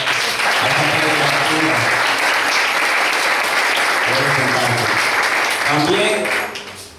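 Applause fills a church anniversary gathering, steady and loud for about six seconds before fading, with voices and musical tones rising underneath.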